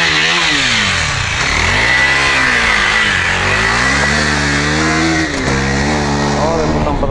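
A loud quad bike engine roars close by while racing, its pitch rising and falling as it revs and changes speed, and the droning continues without a break throughout.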